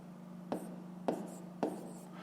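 Three quick pen strokes mark out a fraction on paper in a fifth-grade maths exercise, each a short scratchy burst at an even pace against a quiet background.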